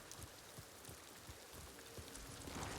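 Steady rain falling in the video game Ghost of Tsushima, a dense, even patter with scattered soft drop impacts throughout, fairly quiet and with no voices.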